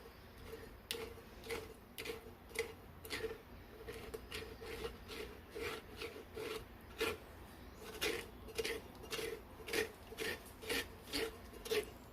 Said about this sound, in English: just keep scraping until all the sauce goes through